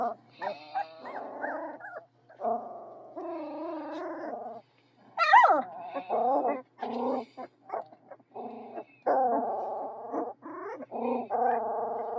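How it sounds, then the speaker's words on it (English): Puppies barking, whining and growling in short, varied bursts close by, a lively run of yips and grumbles with brief pauses between. "Who are you barking at?"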